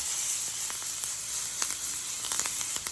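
Steak sizzles steadily in a pan with butter, thyme and garlic, a constant bright frying hiss with small crackles and pops, close and even throughout.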